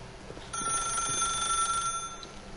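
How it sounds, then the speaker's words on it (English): A telephone rings steadily in The Stanley Parable video game, starting after a brief quiet moment and continuing as a sustained electronic bell tone to the end. "If you can truly place your faith in another, then pick up the phone."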